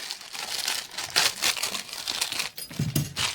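Crinkling plastic packaging being torn open from a new set of Tap Jack mole traps, a close, busy rustle with a few sharper crackles and tearing bursts toward the end.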